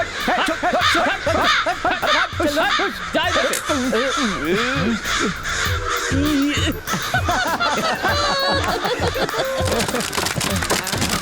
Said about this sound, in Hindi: कौवे क्या करेंगे? भगाने से चले जाएंगे।